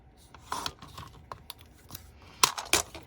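Scissors snipping paper while making a trifold craft tag with a hidden pocket, heard as a few quiet, close, irregular crisp cuts and rustles, with two sharper snips near the end.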